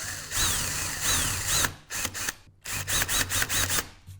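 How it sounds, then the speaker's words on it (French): Metal drill bit in a power drill countersinking a screw head in a wooden jig, with short whirring bursts that rise and fall in pitch, repeated several times close up with brief gaps between them. "je prends mon foret pour les métaux et je viens fraiser ma tête de vis"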